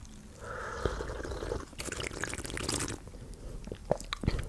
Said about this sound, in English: It is fizzing.